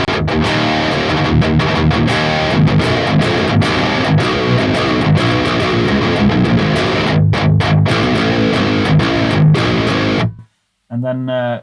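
A high-gain electric guitar through the Audio Assault RVXX amp sim chugs dense, heavily distorted riffs with tight palm-muted stops, loud and close, then cuts to silence before a short burst resumes.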